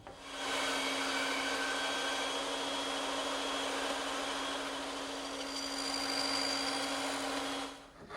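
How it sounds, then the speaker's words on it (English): Bandsaw cutting angled shoulders on a tenon for a butler's table, a steady loud whine with a constant hum that runs for about seven seconds with no talk. "And I'll make those cuts on my bandsaw."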